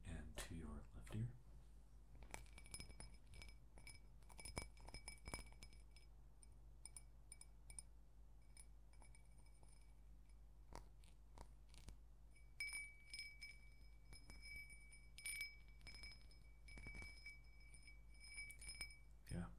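Glass objects clink and tap in an ASMR session, shifting toward the left ear, with bright ringing chimes and sharp repeated taps scattered over about twenty seconds in a quiet room.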